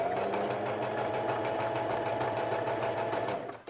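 Sewing machine running steadily while stitching a seam along the edge of an Angela jacket, a close, continuous mechanical whir with fast even needle chatter that slows and stops at the end.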